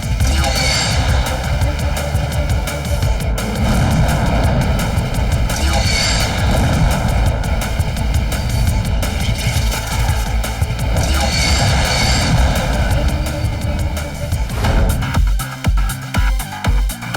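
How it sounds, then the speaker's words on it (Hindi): Fighter jets and an airplane in a cartoon give a steady, dense engine roar that throbs and surges in waves, close and loud throughout, with a brief dip near the end. "हमें सबसे पहले जाकर उन 2 फाइटर जेट्स का सामना करना है जो हमारे प्लेन को घेरे हैं"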